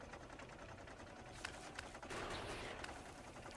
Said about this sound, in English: Another round of shooting aliens.